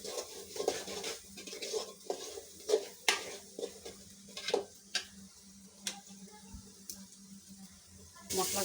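Salted spices being sautéed in a pan for an aloo ghati recipe, with intermittent spatula scrapes and light clinks over a faint sizzle in a quiet kitchen.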